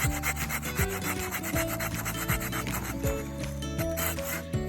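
A Gerber hand saw rasps back and forth through wood in steady, rhythmic strokes, close and fairly loud, with no talking.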